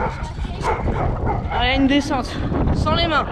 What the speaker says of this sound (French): il y a un chien qui nous suit depuis tout à l'heure